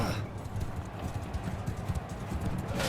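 Horse hooves galloping in rapid, steady clip-clop rhythm during a battle in the video game Mount & Blade 2, fairly close and continuous amid faint background battle noise.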